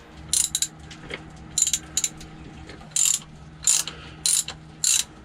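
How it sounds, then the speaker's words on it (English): A ratchet wrench backing a bolt out of a corroded tube stack on a boat, about six short bursts of rapid metallic clicking, close and loud, separated by brief pauses, no talk. "I'm on the back of the tube stack here, taking the bolt out."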